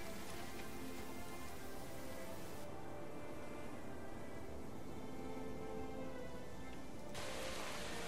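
Steady rain falling in the video game Guild Wars 2, a dense, even hiss of drops that holds at constant level, with the texture thinning briefly in the middle before returning fuller.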